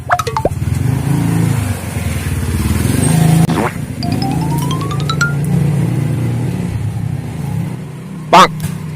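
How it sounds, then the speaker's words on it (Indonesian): A motorcycle passes by on a street outdoors, a steady engine rumble that swells and fades over several seconds, followed by a brief sharp burst near the end. "Awas motor."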